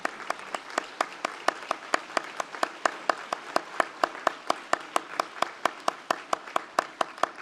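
Graduates at a University of Birmingham degree congregation receive a round of applause: steady, evenly paced claps at a moderate, slightly distant level, with no voices over them.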